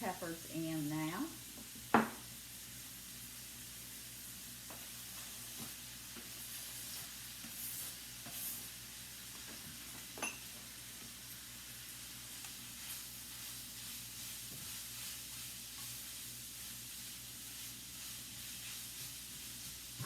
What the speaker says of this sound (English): I'm going to put my onions and peppers in now.